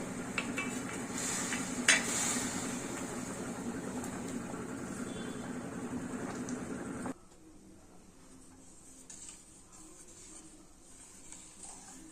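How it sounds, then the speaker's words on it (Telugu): Jaggery syrup with ghee bubbling in a pan for sweet pongal, a steady hiss and sizzle with light stirring and a sharp clink near two seconds, dropping to a quieter simmer after about seven seconds. "బెల్లం ఉడుకుతుంది కదా, బెల్లం ఉడుకుతుంది"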